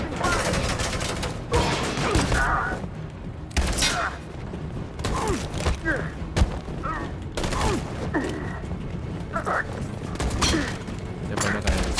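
Rapid gunfire bursts and heavy booms from a firefight in Detroit: Become Human, sounding near and loud in repeated volleys over roughly twelve seconds, with game voices talking over the shooting.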